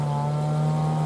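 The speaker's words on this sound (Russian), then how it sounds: "где-то моторка, наверное, идет" Outboard motorboat engine droning steadily on a river during a hiking trip near a hayfield cabin, a continuous low hum with a strong tonal pitch, fairly close and loud, no talk over it.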